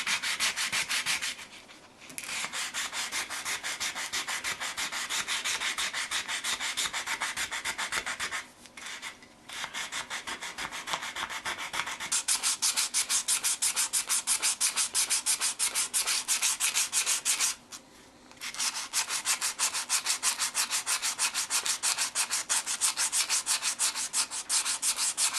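Sandpaper of roughly 80 to 100 grit rubs back and forth against a saw-blade being shaped into a kitchen knife, a fast, dense, raspy scraping that runs steadily with a few brief pauses.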